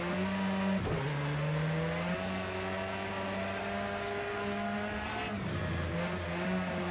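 An Audi S1 EKS RX rally car in Project CARS 2 sliding through a corner, its engine holding a loud, steady tonal drone. Tires squeal and skid along with it, and the engine note dips briefly twice. No one talks.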